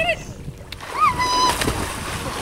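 A Great Dane swimming in water makes repeated splashes and sloshing close by, while people talk and a whistle-like tone rises over the splashing.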